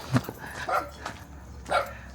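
A dog barks a few times, short yips spaced apart, fairly close with a bit of background noise between them.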